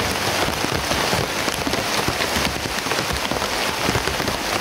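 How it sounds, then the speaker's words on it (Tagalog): Heavy rain pours steadily, a dense constant hiss of drops hammering a surface, loud and close with no pauses. "Sobrang lakas talaga ng ulan."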